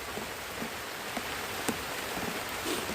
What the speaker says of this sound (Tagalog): sobrang ginaw, sobrang lamig, sobrang lakas ng ulan